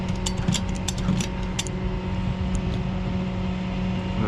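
A ratchet strap being cranked tight over a car wheel on a tow truck, several quick metallic clicks early on over a steady loud engine hum that continues after the ratcheting stops.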